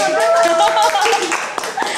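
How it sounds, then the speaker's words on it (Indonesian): Short burst of hand clapping from a small group in a café setting, close and brisk, with voices and a chuckle mixed in. "Tepuk tangan"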